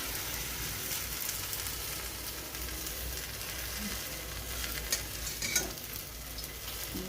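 Onion and coriander thalipeeth cooking in oil in a pan, giving a steady soft sizzle and crackle throughout with a few slightly louder pops near the end, no voices.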